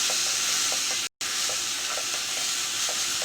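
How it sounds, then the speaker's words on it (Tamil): Coriander and mint leaves fry in oil in a pan while being stirred, making a dense, continuous sizzle with a few faint scraping strokes and one brief cut in the middle. No talking is heard. "அந்த எண்ணெயிலேயே நல்லா திருப்பி விடுங்க."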